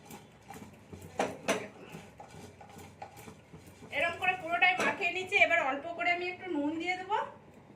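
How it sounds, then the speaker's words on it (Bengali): Spatula stirring a semolina snack mixture with spices in a pan, giving scraping, clinking strokes, with a voice talking over the later part. "এইটাকে আমি এবারে লাড়িয়ে নেবো একটু খুন্তি করাচ্ছি"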